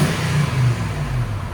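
Close by, the 4.7L V8 of a 2007 Lexus GX 470 with a Borla ProXS exhaust and a manifold leak drones with a deep, slightly wavering rumble, the pitch lifting and easing briefly in a short rev.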